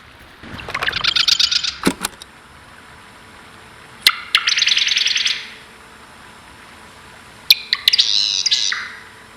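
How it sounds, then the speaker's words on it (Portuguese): Noisy birds chirp in three loud bursts of rapid, high tweeting, separated by brief pauses and set against a faint background hum. "esses pássaros barulhentos"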